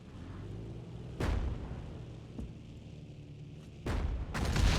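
Distant gunfire and booms sound in a Battlefield 1942 match: a few dull, faint thuds and sharp cracks spaced over several seconds above a low rumbling background.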